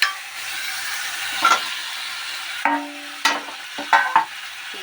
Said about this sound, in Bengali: একটু ভালোভাবে নেড়ে চেড়ে নিতে হবে